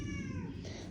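A cat meows once, a short drawn-out call heard close and fairly quiet in an indoor setting.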